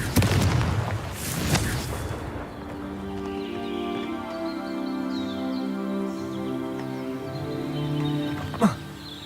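A Confringo fire spell explodes in Hogwarts Legacy with a sharp booming burst, then a lingering tonal hum and soft game ambience, with a small thump near the end.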